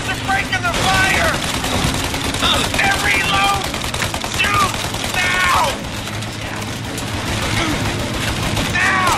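Machine gun fire in the video game Mafia Definitive Edition rattles in sustained loud bursts, with voices talking over the shooting throughout.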